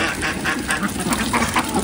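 A flock of about 75 to 80 ducks quacks loudly and repeatedly nearby, overlapping calls coming in a rapid, chattering stream.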